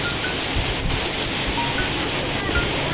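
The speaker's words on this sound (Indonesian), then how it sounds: "aku lihat hujannya makin lebat banget hujannya" Heavy, steady rain pours down without pause, a dense hiss of drops drumming on surfaces, close and loud throughout, during a flood.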